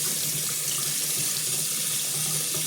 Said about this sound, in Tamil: பாரு நல்லா வாஷ் பண்ணி கிரைண்டரோட கல் வந்து நல்லா வாஷ் பண்ணி வைக்கணும்